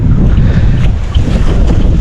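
Strong wind roars and buffets the microphone continuously over a calamansi farm, a loud low rumble with gusty fluctuations and no voices.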